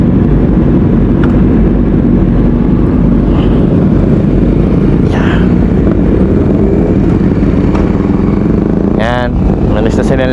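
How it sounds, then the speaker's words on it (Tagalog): Motorcycle engine running steadily and loudly close by, a continuous low rumble throughout with a brief higher whine near the end. "Tuwa ako sa tunog ng motor ni Red Sweet"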